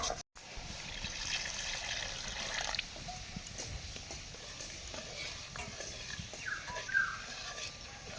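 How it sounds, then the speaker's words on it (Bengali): Boiled spinach water being poured into a pan of spinach paste frying with spices. It gives a steady liquid sizzle and stirring noise, fairly faint and continuous, with no talk. "এখন সেদ্ধ রাখা পালং সেদ্ধ জলটা দিয়ে দেবো।"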